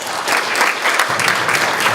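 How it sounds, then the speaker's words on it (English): Audience applause at a community Overdose Awareness Day vigil in Front Royal, a steady dense patter of many hands clapping close by, continuing evenly throughout. "Again, another round of applause for that testimony."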